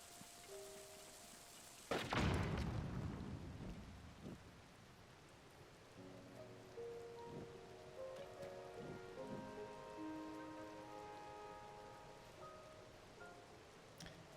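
Rain pattering steadily in the video game Zelda: Tears of the Kingdom, with a sudden loud thunder-like crash early on and soft melodic game tones chiming over the downpour.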